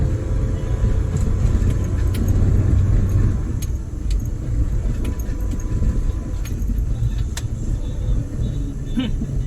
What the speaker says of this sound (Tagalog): Pag naka-second gear ka nito, mabilis siya. Medyo mataas RPM pero kaya.